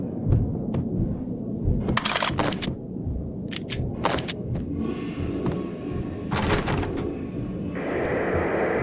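A thunderstorm in the Max Payne video game, a low rumbling bed of storm noise broken by several sharp crackling bursts, heard alone.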